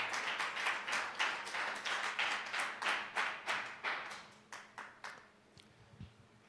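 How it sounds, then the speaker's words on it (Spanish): A church congregation claps together in a steady rhythmic beat, about a dozen sharp unison claps that grow softer and thinner toward the end. "démosle un fuerte aplauso al Señor"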